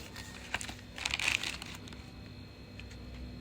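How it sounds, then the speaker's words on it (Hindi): A dirty parcel packet being opened by hand, with close plastic crinkling and tearing in a brief burst around the middle, then quieter rustling against a faint background hum. "तो गाइस देखो, ये पैकेट हम खोल रहे हैं"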